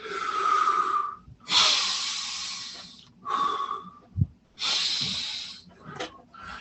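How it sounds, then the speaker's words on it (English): Several long, forceful breaths follow one another, each a broad airy rush lasting about a second, with brief pauses between and a soft thump near the middle, close and fairly loud, with no talking. "take a deep breath, guys."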